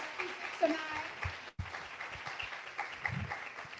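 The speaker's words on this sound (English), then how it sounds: "let's give a round of applause for both of our speakers tonight" Audience applause at a book talk event, moderately faint and distant clapping spread through the room, with voices talking over it.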